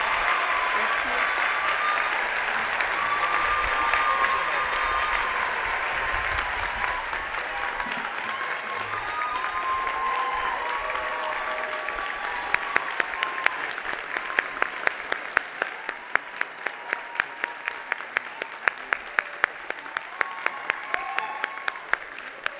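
An audience at a law school commencement claps in sustained applause, a dense crowd wash that thins into distinct individual claps toward the end.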